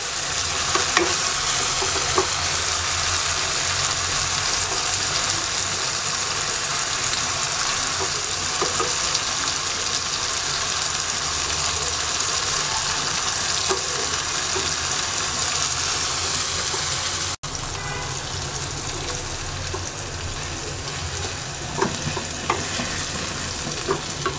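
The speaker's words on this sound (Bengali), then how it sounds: "মশলা কষিয়ে নেওয়া হয়ে গেছে, এবার ডিম দিয়ে দিচ্ছি।" Hilsa fish roe hits a pan of cooked-down spices and tomato and fries with a loud, continuous sizzle, joined by occasional stirring scrapes and a short break near the end.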